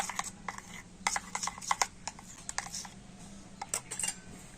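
A spoon clinks and taps irregularly against a bowl while green food colouring is stirred into rice pitha batter, the sharp metallic clicks close and fairly quiet.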